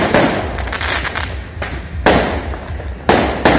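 Fireworks launched at a temple festival in Taiwan burst in four loud, close booms spaced about a second apart. Crackling trails fill the gaps between the booms.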